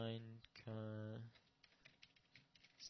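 A sustained humming tone gives way to a quick patter of keystrokes on a computer keyboard, soft and close, tapping irregularly.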